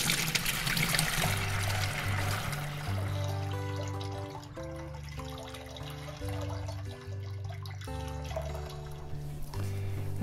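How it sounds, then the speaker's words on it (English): Beer wort for a bourbon barrel porter pours steadily into a fermentation bucket, a continuous liquid trickle and splash over a background of music. "it's now time to transfer this wort into the fermentation bucket"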